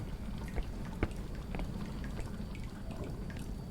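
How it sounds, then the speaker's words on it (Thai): Water runs from a pipe in the horror video game Song of Horror, a soft continuous trickling and dripping patter with a few sharper drops, faint and steady throughout, with no voices. "ท่อไหลนะน้ำไหลนะครับ"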